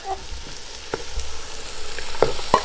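Chicken masala sautés in a pan for Kerala chicken pollichathu, with a continuous soft sizzle broken by several sharp scrapes and taps of stirring.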